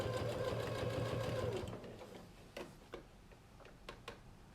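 A sewing machine runs in a rapid, steady whir while stitching binding onto a quilt, then stops. A few sharp, isolated ticks and clicks follow in the quiet.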